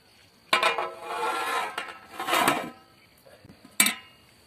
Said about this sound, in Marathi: एक वेळेस हलवून त्यावरती झाकण ठेवणार आहोत